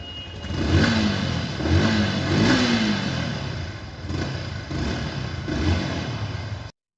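A Yamaha SXR 155cc retro motorcycle engine starts up and revs repeatedly, rising and falling in pitch, loud and close, with no voices.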